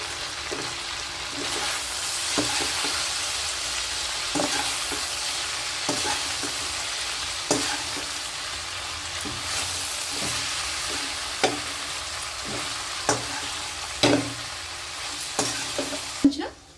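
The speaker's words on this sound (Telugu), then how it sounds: "ఇప్పుడు ఈ ఎగ్, ఈ చపాతీవి, ఇవి కూడా వేసుకొని బాగా కలిపేసుకుందాం" Egg and chapati pieces stirred in a frying pan while they sizzle steadily, with regular scraping and tossing strokes of the spatula every second or so that grow sharper toward the end.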